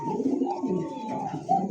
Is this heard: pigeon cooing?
yes